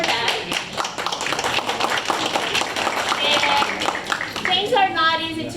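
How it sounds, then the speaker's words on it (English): Audience applause at a family workshop on tuition equity: a dense, steady wash of many hands clapping together, fairly loud and sustained throughout, with a few voices faintly mixed in toward the end. "let's clap for that"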